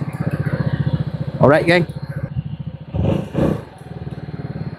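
An AVETA Nova 250 scooter's 245.5 cc engine idles with a steady, pulsing thrum, close by, while someone talks over it.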